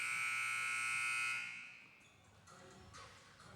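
End-of-quarter buzzer at a basketball championship game, a loud sustained electronic tone lasting about a second and a half before cutting off into faint arena noise.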